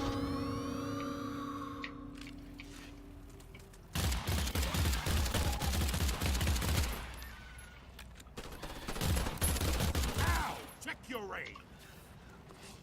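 Mounted gun fire in the video game Earthfall, loud sustained automatic bursts in two long stretches, with a softer tonal game sound before the first burst and quieter noise after the last.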